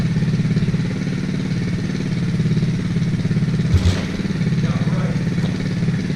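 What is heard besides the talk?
motorcycle kick-started and running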